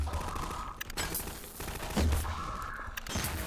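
SMG-wielding enemies in a Halo-style shooter level fire bursts of rapid gunfire, with sharp cracks and thumps recurring over about three seconds at moderate loudness.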